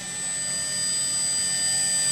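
An Esky 150 V3 remote-control micro helicopter flying indoors gives a steady, high-pitched electric whine with thin tonal harmonics, rising slightly in loudness as it hovers close by.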